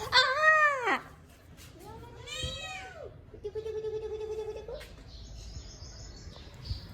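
A cat meows twice with long, wavering cries, followed by a buzzing tone and faint high chirps in a quiet room.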